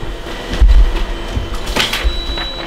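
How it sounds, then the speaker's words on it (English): A printer runs in a home, giving a few mechanical thumps and whirring shuffles with a faint high whine, loud and close, no voices. "Look, the printer!"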